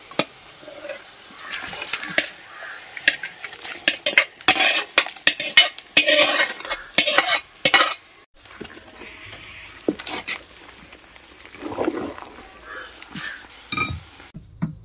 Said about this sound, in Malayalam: അപ്പോൾ എല്ല് ഇതിനകത്തേക്ക് ഇടുന്നു. ഇതിനകത്തേക്ക് ഇട്ട് മിക്സ് ചെയ്യാം.